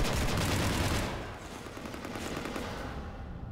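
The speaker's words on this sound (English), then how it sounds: "You want to stop shooting up my ship?" Sustained automatic gunfire rakes a ship in Mass Effect, a loud continuous rattle of shots that fades slightly after the first second but keeps going.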